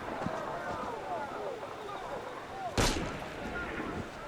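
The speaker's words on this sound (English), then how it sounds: "Ah, there's a dude shooting." A shooter fires in Assassin's Creed Unity. A single sharp gunshot cracks out over busy in-game street ambience of footsteps and crowd noise.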